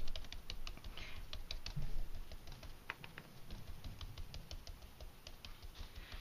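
A sponge dabs Tangelo Twist ink onto cardstock held down with painter's tape, making a quick run of soft, close tapping pats in an uneven rhythm, with no talking.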